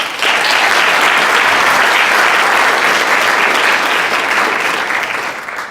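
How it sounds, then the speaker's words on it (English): An audience at a high school science research symposium applauds the incoming eighth graders, a loud, dense wash of clapping that holds steady for several seconds before starting to taper off. "let's have a round of applause for them"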